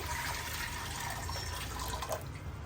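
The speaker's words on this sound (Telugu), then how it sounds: "ఆ గిన్నెలోకి ముందు వాటర్ వేసేయాలి" Continuous splashing water running into a cooking pot for sambar, a steady close gush with slight bubbling throughout.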